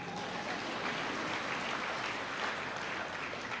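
A congregation applauds during a church sermon, steady dense clapping filling the whole stretch at even loudness with no voices over it.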